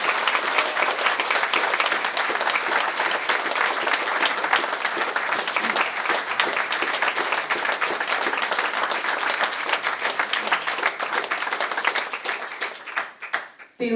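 Concert audience at a vocal group's first solo show breaking into sustained, dense applause and clapping for about thirteen seconds before it tapers off abruptly.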